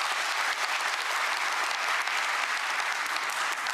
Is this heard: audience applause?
yes